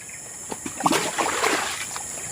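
Liquid, likely herbicide spray mix for weeding tall grass around coffee plants, poured through a strainer, splashing and trickling in a steady close wash for a couple of seconds.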